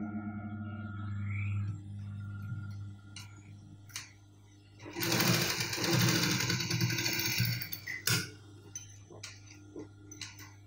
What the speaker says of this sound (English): I'm going to sew this together.